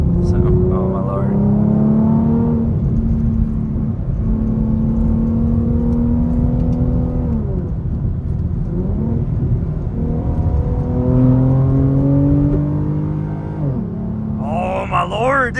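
A 2015 Ford Mustang with a 3.7-litre V6 drones loudly and steadily from inside the cabin, rising and falling with throttle; distinct exhaust pops are hard to pick out, and a voice speaks briefly near the end.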